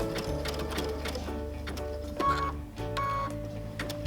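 A sewing machine runs a zig zag stitch over raw edge applique, a rapid rhythmic chatter with a brief stop and restart midway, no talking.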